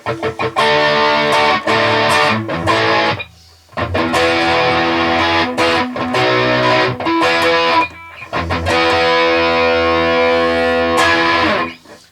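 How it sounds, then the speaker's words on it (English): Electric guitar played through a Boss OD-200 pedal in its fat distortion mode, thick and saturated with sustained chords ringing in three loud bursts separated by short breaks, no voice. "Next it says fat distortion, which is kind of like an amp with like a DS1 in front of it"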